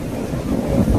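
Rough, churning sea surf at a popular coastal viewpoint during a lull in the rain, a steady low roar of waves with gusty wind buffeting the microphone throughout, no voices.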